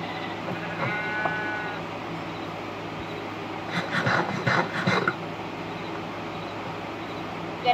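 A single drawn-out Minecraft sheep bleat early on, later followed by a short burst of clattering, rustling noises over a steady low background hum.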